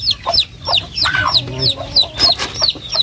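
Chicks peep and chickens cluck near a duck cage, a busy run of high chirps and clucks close by, with a person speaking briefly among them.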